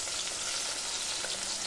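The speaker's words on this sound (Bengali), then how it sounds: "পেঁয়াজটাকে ঢাকা দিয়ে বেশ কিছুক্ষণ এটাকে ভালো করে সাঁতলে নেব" Small onions sautéing under a lid in a pan for a Rajasthani onion curry make a constant, even sizzle, close and unbroken, with no voices.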